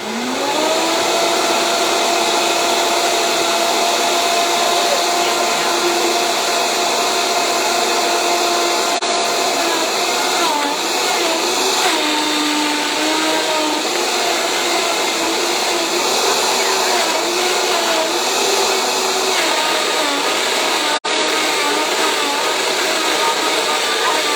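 A blender whips frozen pineapple and coconut, a loud, continuous motor whine that shifts slightly in pitch as the frozen chunks are churned, close and sustained throughout.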